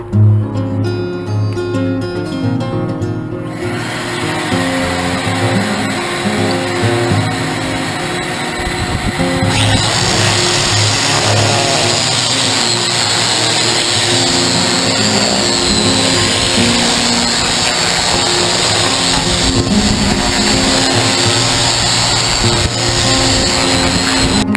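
A 50-grit pad sands a concrete countertop while a small vacuum pulls dust. A loud, continuous whirring roar fills the whole stretch and swells to a harsher, hissing grind partway through, with no talking.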